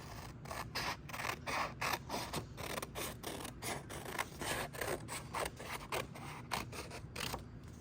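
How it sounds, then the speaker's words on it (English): Scissors cutting out a paper road piece for a shape city collage, a steady run of close crisp snips and paper rustle repeating in quick rhythm throughout, with no talking. "Then we're going to cut this out."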